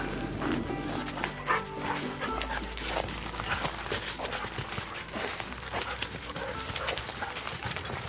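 Two husky dogs at a Colorado campsite yip, whimper and bark in short bursts over rustling movement and outdoor noise, fairly close, with some faint talk in the background.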